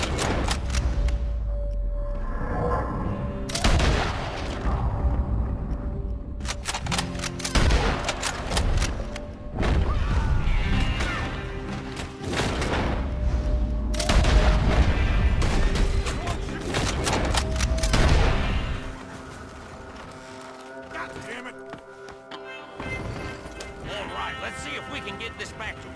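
Heavy gunfire in the Red Dead Redemption 2 video game, with dense volleys of shots, booms and thuds running almost continuously, loud and close, while voices talk and shout over the battle.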